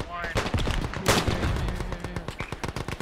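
A turret fires in the video game Beyond The Wire, a loud rapid burst of machine-gun shots up close, with a heavier blast in the middle and voices calling out over the chatter.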